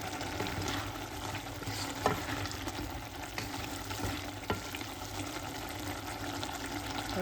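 Soy meat soaking water poured into a sizzling curry gives a continuous close hiss and bubbling with light stirring clicks, steady throughout, with no talk.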